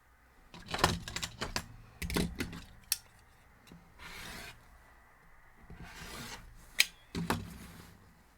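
Scissors trimming sewn fabric holiday coasters, a series of short rasping cuts and snips in uneven bursts, close and fairly quiet with pauses between strokes.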